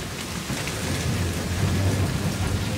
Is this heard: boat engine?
no